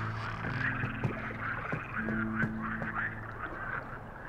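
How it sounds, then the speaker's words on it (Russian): A frog in the swamp level of the video game The Cursed Forest croaks in short, buzzy bursts, repeated in two clusters, fairly soft over a low ambient background. "О, лягушка даже, прикольно."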